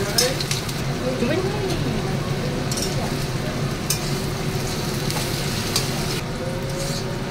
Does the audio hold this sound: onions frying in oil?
yes